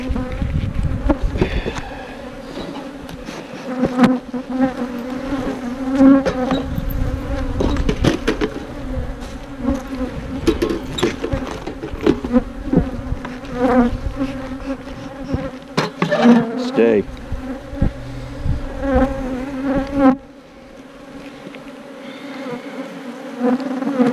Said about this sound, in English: these bees are mean